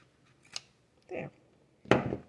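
Scissors trimming fabric along the edge of a simple journal cover: three separate short snips, close and crisp, spaced over a couple of seconds in an otherwise quiet room.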